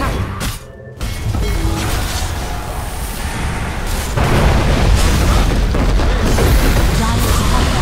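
Barracks being destroyed in the Dota 2 video game, a heavy booming crash and rumble with debris-like crackle, a brief dip, then a louder sustained roar of game effects, no speech.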